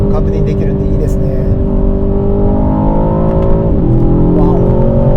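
Aston Martin DBX707 2025 SUV in sport mode accelerating on a Hakone road, a steady loud engine drone and road roar rising smoothly in pitch with a brief dip near the end, heard from inside the cabin.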